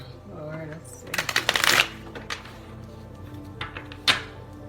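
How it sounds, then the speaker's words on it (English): Tarot cards being shuffled, with a dense riffling burst early on and a few lighter taps and snaps afterward, close and fairly quiet over a low background hum. "One more shuffle."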